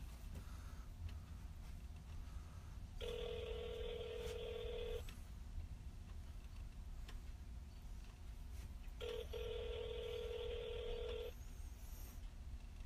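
A phone call rings out on the caller's end, two long ringback tones about two seconds each with a pause between, faint and distant over a low steady background hum.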